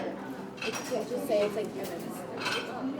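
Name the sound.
decanting shaken iced coffee with ice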